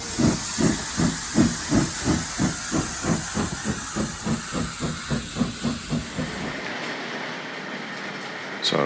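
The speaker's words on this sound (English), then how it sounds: "I've got the Britannia coming in from behind me here with the brick wagons." Model steam locomotive Britannia pulls brick wagons on a model railway, chuffing in a steady rhythmic beat with constant hissing steam, close and loud, before the sound cuts off abruptly near the end.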